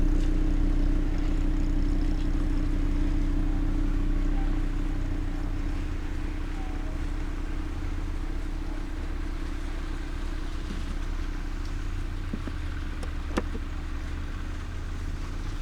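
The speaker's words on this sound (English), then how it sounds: "we have the even louder Sport exhaust" A 2018 Audi TT RS coupe with the louder Sport exhaust idles and runs, giving a steady deep engine drone and rumble throughout, close and continuous, with a few faint clicks near the end and no talking.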